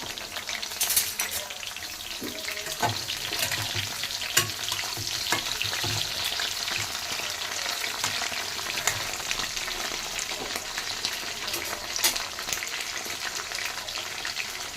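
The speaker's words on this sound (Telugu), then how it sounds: "బెండకాయని ఇలా ఇదిగో అలా పెట్టి వేయించేసుకోవాలి" Stuffed okra fries in a pan with a continuous loud hiss and sizzle, broken by scattered crackles and the occasional scrape of stirring.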